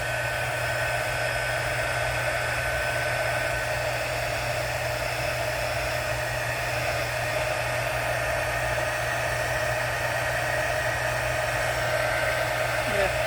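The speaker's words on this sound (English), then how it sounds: "Time to get the dryer out." Hair dryer blowing steadily to dry a mixed media art piece, a constant loud whooshing whir that holds unchanged throughout with no voices.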